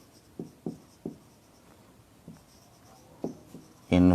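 Chalk or marker strokes on a board during a surface chemistry lecture, a series of short separate taps and scrapes spaced irregularly, fairly close and moderately loud, ending in a louder burst.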